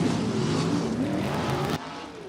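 Non-wing USAC sprint car racing at Kokomo Speedway, its 180-degree exhaust engine giving a loud, raspy, steady roar with a rising pitch, then cutting off abruptly near the end.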